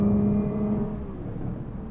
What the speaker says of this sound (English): When you step on it, though, there the turbos go.